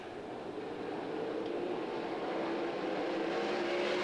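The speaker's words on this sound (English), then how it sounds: "Gravel with a good start, Schatz stays with him" World of Outlaws sprint cars at Williams Grove Speedway, accelerating in a pack at a green-flag restart on a dirt oval: a steady, rising engine roar that swells and holds loud throughout.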